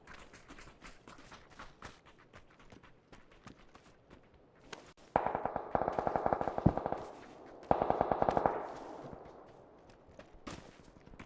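Bursts of automatic gunfire in the battle-royale video game PUBG, two loud sustained volleys of rapid shots standing out over scattered quieter pops and footstep-like taps.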